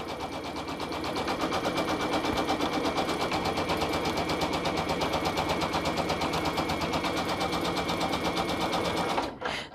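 An embroidery machine stitches out a glitter patch with a fast, steady, rapid-fire needle chatter. The sound is loud and close, runs almost the entire time with no talking, and stops abruptly at the very end.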